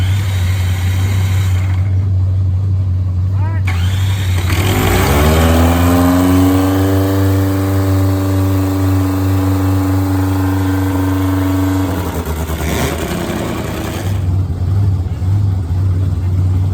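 Top fuel nitro drag motorcycles fire up at a drag strip, their engines roaring loud and close, with a long rising, sustained rev in the middle over a steady idling drone.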